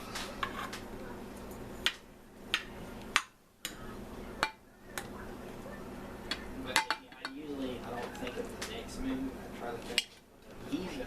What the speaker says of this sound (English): I thought you'd like to see me cut into it